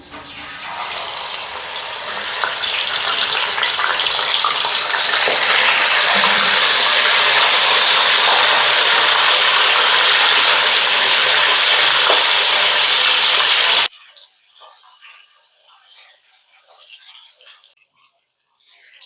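Crab pieces fry with curry leaves in hot oil in an uruli pot, a loud, steady, close sizzle that runs for about fourteen seconds before cutting to quiet with faint sounds.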